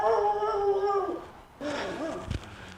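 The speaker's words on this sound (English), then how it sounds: "pardon the barking dog" A dog howls in long drawn-out tones, then gives a few shorter whining yelps, fairly faint and somewhat distant.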